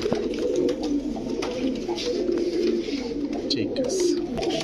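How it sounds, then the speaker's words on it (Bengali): Kaldom pigeons cooing at a busy pigeon market, a dense continuous chorus of low throaty coos close by, with people talking in the background. "এই মুহূর্তে দেখাবো কালদম কবুতর"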